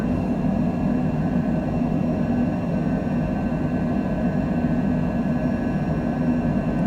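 A Cessna Citation Longitude jet in a flight simulator climbing out of Las Vegas after takeoff, with a steady, even engine drone and faint whine held throughout at constant loudness.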